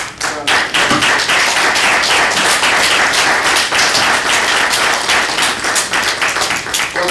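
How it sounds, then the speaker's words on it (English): An audience breaks into loud, close applause for a man seated in the crowd at a lecture, with many hands clapping steadily and a few sharp, distinct claps standing out through the whole stretch. "Give the brother a round of applause."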